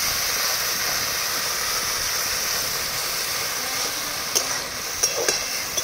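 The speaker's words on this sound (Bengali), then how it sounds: "এই আদা রসুন বাটা এবং লবণটা দেওয়ার পরে এবারে মশলাটাকে আমি একটু ভালো করে কষিয়ে নিচ্ছি।" Spice paste of ginger-garlic and salt sizzles steadily in a hot pan, a continuous bright frying hiss. A few faint clinks of a spoon stirring against the pan come toward the end.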